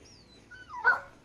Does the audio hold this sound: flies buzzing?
no